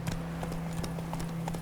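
Roach the horse gallops in The Witcher 3, a rapid, even clip-clop of hooves running steadily over a low hum of game ambience.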